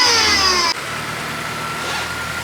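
Supercharged Mercedes-AMG car engine running with a high supercharger whine that cuts off suddenly, leaving a steady lower engine drone, close and fairly loud, with no talk.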